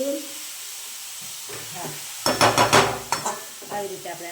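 Grated carrots for carrot halwa are stirred in oil and ghee, a burst of close scraping and sizzling stirs in the middle, with a voice speaking briefly before and after.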